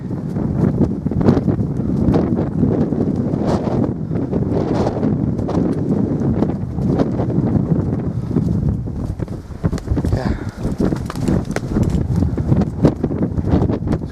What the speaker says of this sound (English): I'm just coming up towards this false summit, and forgive me, it's quite windy,